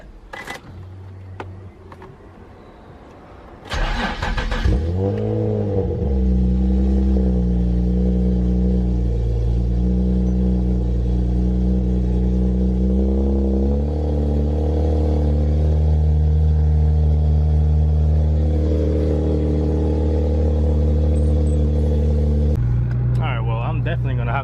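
An Infiniti G35 cranks and fires up after a wheel bearing and stud job, settling into a loud, steady idle with a low droning hum that rises slightly as it pulls away, with brief handling noises at start and end.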